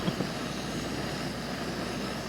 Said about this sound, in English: That must be an airplane.